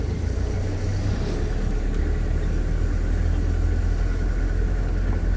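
A Code 10 truck's engine rumbles low and steady at close range while the vehicle is driven up an incline, a continuous droning hum with no talk.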